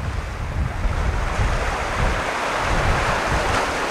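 North Atlantic surf washes in a continuous broad roar mixed with gusty wind buffeting the microphone, loud and close throughout with no voices.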